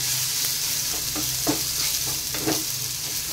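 A spice masala with tomato, green chilli, salt, turmeric and chilli powder fries in a pan for a pomfret curry, a dense steady sizzle with a few spatula scrapes and stirring knocks, close up.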